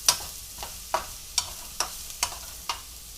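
Mushrooms with garlic in olive oil in a pan, a soft sizzle under roughly seven evenly spaced scraping stirs of a utensil, close and fairly quiet.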